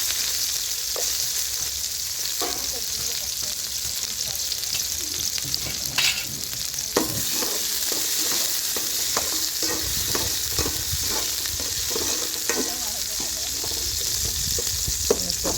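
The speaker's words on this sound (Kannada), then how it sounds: "ಎಣ್ಣೆ ಕಾದಿದೆ ಈರುಳ್ಳಿ ಹಾಕಿದ್ದೀನಿ" Onions sizzle steadily in hot oil for a village-style fish curry, with a continuous close frying hiss and occasional stirring scrapes throughout.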